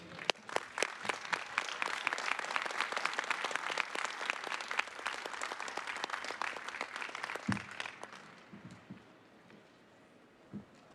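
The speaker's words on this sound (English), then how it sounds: "One more round of applause for our award recipients." A university commencement audience applauds in a dense, sustained wave of clapping for about eight seconds, then it thins out and fades to a few scattered claps.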